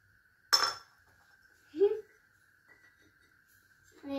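Small clay toy kitchen utensils from a children's kitchen set clink together in two or three short, close, light knocks, separated by quiet pauses, with a faint steady tone running underneath.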